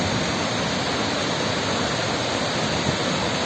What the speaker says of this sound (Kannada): ಸುಂದರವಾದ ಫಾಲ್ಸ್ ಇದು